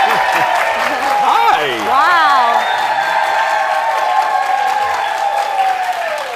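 A studio audience at a talk show in the Twin Cities applauds and cheers as two actors arrive, dense sustained clapping with whoops under a host's voice throughout.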